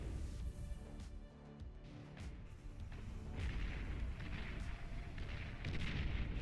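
Naval frigates are destroyed by torpedo defenses in the Beyond All Reason strategy game, with repeated deep booms and blasts that overlap in a dense, rumbling barrage of battle explosions.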